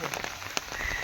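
Heavy rain pattering steadily on surfaces outdoors, a dense continuous wash with small splashy ticks, close and moderately loud.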